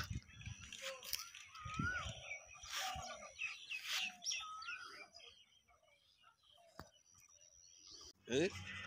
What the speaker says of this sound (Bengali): প্রচুর পাখির কলতান শোনা যায়।